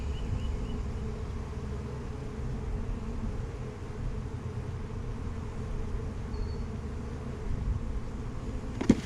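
Honeybees hum continuously around an opened hive during a walk-away split, a steady low droning buzz with close-by insect fly-bys and faint rustling of frames, no voices present.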